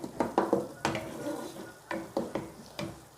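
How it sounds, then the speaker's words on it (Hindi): A spoon mashing softened tomatoes in a pot, with sharp metallic clinks and scrapes in uneven bursts over a faint sizzle, close and moderately quiet. "आप चमचे की मदद से उसको थोड़ा सा टमाटर वगैरह को मैश कर लें।"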